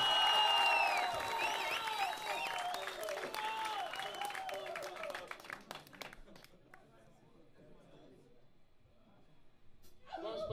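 A concert audience at a school K-pop performance claps and cheers loudly, then the applause thins and fades over several seconds, with voices and whistles scattered through it.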